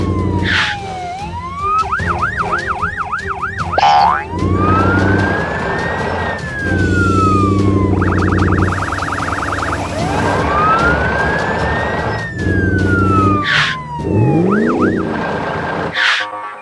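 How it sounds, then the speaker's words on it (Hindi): Several wailing and yelping sirens, police-style and ambulance-style, overlap loudly and continuously, switching between rising sweeps, fast warbles and steady hi-lo tones. "लोगों पर दौड़ती नीली पुलिस कार और सफेद एम्बुलेंस का लक्ष्य एक ही है, मदद पहुंचाना।"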